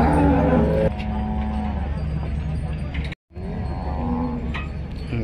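Cows at a crowded cattle market low in long, drawn-out moos up close, with a murmur of voices and passing traffic in the background and a brief dropout midway.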